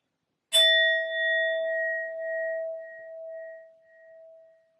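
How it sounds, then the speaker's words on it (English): A sound bowl is struck once, giving a clear metallic ding that rings out as a pure, sustained tone and slowly fades over several seconds in otherwise quiet surroundings. "I'm first going to use my sound bowl to clear and set the energy"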